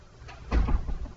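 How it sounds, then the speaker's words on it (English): A classroom door swings shut with a fairly close, muffled thud and a short rattle that fades quickly. "Jared, do you want to hit that door for us?"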